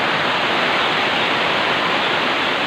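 Heavy rain pours down in a loud, steady, dense hiss, close and continuous throughout with no voices.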